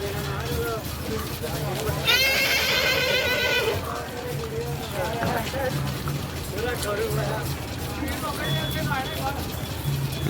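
A young horse about five to seven months old gives one loud, shrill whinny lasting over a second, close by, amid ongoing outdoor noise and faint rustling.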